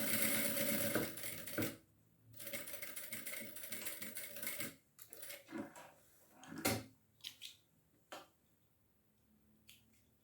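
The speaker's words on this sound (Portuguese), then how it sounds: "Faço uma costura de pesponto." A sewing machine topstitches a retractable fabric pencil case in short close bursts of running, broken by pauses filled with clicks, snaps and handling of the fabric.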